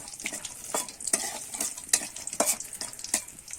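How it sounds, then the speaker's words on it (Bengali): Lentil badi frying in hot oil in a wok, with a spoon stirring through them: crackly sizzle broken by repeated scraping strokes, close and moderately loud, no talking. "তেলটা গরম করার পরেই কিন্তু আমি বড়িটা দিয়ে দিচ্ছি বড়িটা আমি লাল লাল করে ভেজে নেব"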